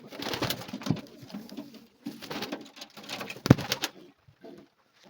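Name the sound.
pigeons cooing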